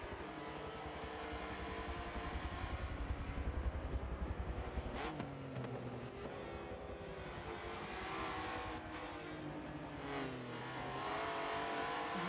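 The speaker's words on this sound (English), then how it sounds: "but Ren carries more speed out of the corner onto the start-finish straight and fends Unix off for another lap." Race cars in a simulated '03 GT Speed World Challenge race, engines droning loud and steady with rising and falling revs and gear shifts as a car exits a corner onto the start-finish straight.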